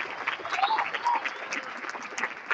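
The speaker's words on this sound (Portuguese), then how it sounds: "Uma salva de palmas para os" Applause from a live audience at a morning testimonial gathering, a steady patter of many hands clapping at moderate volume, with a voice briefly audible over it.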